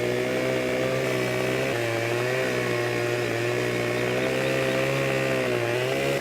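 A chainsaw cutting a tree in Farming Simulator 2015, a loud, continuous buzzing drone with a steady pitch that dips slightly now and then as the blade works through the wood.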